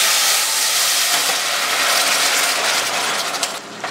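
Wine poured into hot risotto rice in a pan for risotto alla Milanese sets off a loud, broad steaming hiss and sizzle that holds steadily, then eases near the end with a few faint clicks.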